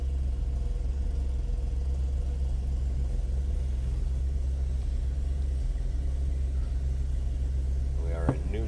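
A 1948 Chevrolet Fleetline Aerosedan idles steadily after starting, a low continuous engine rumble running close and unbroken throughout, with a brief voice near the end.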